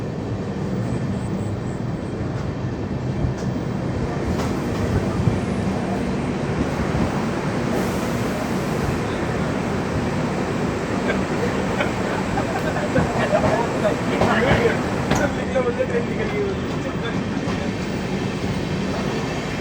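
A Garib Rath express train pulls out of a main-line platform after a one-minute halt and accelerates, a loud, continuous rumble and clatter of wheels on rails from aboard the moving train.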